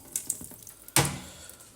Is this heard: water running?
yes